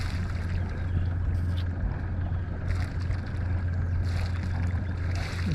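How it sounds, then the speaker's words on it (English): A boat engine, run to charge batteries off Uruguay, drones steadily at close range with a low constant hum, wind buffeting the microphone now and then. "So I have to excuse the engine noise."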